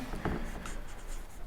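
Pen writing a maths solution on paper, a short scratchy stroke followed by lighter scribbling, close and quiet with a faint background hum.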